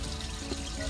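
Water rushes steadily as it flushes out a cassette toilet during emptying at a disposal point, a continuous noisy wash for about a second.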